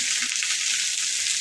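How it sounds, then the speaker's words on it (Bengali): Food fries lightly in a pan with a soft, steady hiss of sizzling oil, brief and uninterrupted. "একটু হালকা ভেজে দেবেন"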